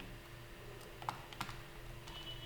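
Soft keystrokes on a computer keyboard as a Gmail password is typed, a few quiet taps and clicks in a short burst over a low background hum.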